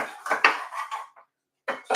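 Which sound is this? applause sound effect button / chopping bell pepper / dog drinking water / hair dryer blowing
chopping bell pepper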